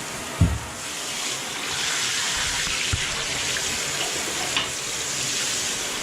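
Shower water pours steadily into a bathtub with a painted tub surface, making a continuous loud rushing hiss with a couple of brief knocks at the start and no voices.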